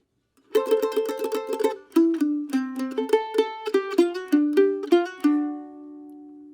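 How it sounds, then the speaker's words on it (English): A solo mandolin plays pickup notes leading out of the A section into the B section of a tune, a quick run of tremolo picks followed by separate plucked notes settling on a ringing final note, close and clear. "So we're going to start out on these pickup notes coming out of the A section"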